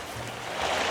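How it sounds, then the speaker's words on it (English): A loud, steady rushing roar of a waterfall in the fishing video game Webfishing, broadband and continuous, swelling slightly louder toward the end with no other sounds. "I forgot that you move your fucking cursor over to the waterfall. It's so loud."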